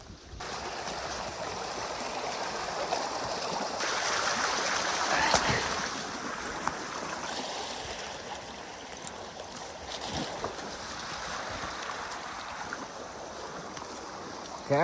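A river flows steadily, a broad continuous rush of water heard from close by, with occasional faint bumps and no talking.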